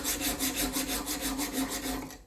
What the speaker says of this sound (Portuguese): Eu vou lixar nessa posição aqui, ó, meio na diagonal